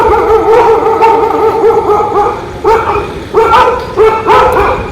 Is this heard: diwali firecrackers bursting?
no